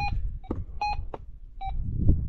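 A metal detector sweeping over ground at an old silver mine site, giving a quick series of short, clear electronic beeps and tones in an uneven rhythm, close and fairly loud.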